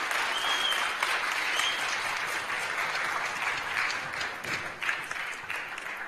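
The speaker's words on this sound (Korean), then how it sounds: "다시 한번 박수로" An audience claps steadily after a vocal performance at a Seoul community talk event, a dense, even wash of applause filling the room throughout without a break.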